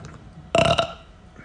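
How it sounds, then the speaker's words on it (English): A single loud burp of about half a second bursts out abruptly, close to the microphone in a quiet room, then stops. "Try to burp."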